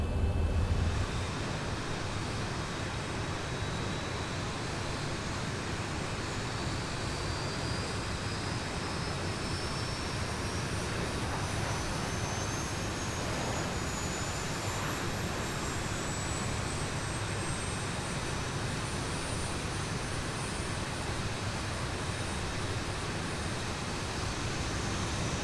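A Boeing 737 jet engine spins up in a flight-simulator cockpit, a steady broadband roar under a thin, slowly rising whine that climbs in pitch throughout, with no talk over it.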